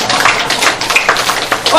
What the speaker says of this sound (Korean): 여러분 오늘 뚱뚱한 분들을 위해서 박수해 주시기를 바랍니다